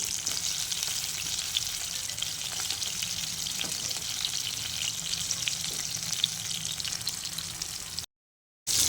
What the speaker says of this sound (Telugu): వీటిని ఆయిల్లో బాగా ఫ్రై చేసుకోవాలి.